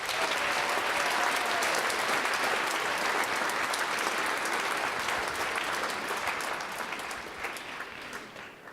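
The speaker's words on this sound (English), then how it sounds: "Give yourself a round of applause." A school assembly crowd in a gym claps for a state basketball championship team, a thick, sustained wash of applause that stays loud and even before thinning slightly near the end.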